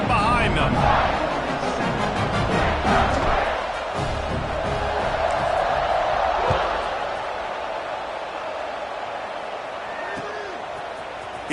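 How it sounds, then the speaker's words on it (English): A stadium crowd in the video game NCAA 26 roars at kickoff, a broad, loud wash of cheering that slowly fades, with a commentator talking over it. "They're set to kick it off, and this crowd now ready to get behind them."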